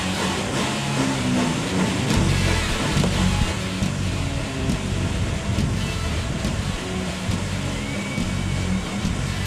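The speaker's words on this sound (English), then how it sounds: "Like train sound effects." Steady broadband rumble and roar resembling a passing train, loud and continuous with faint clattering, no talk.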